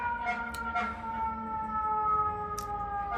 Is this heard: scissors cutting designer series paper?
no